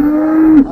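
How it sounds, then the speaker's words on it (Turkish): A cow at a livestock market in Afyonkarahisar lets out one loud, close, sustained moo that holds a steady tone and then breaks off sharply near its end. "Evet abi ineklerimiz bunlar."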